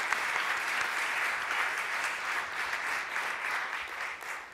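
An audience at an evening public forum on Illinois issues in Peoria applauds the panelists, a soft, even wash of many hands clapping heard from a distance with no speech over it.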